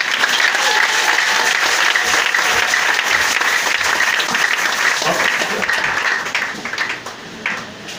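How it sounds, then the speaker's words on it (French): A large audience applauds a person with dense, sustained clapping that stays loud for several seconds, then thins out and fades toward the end. "Est-ce que tu peux l'acclamer ce soir? Acclame encore plus cher."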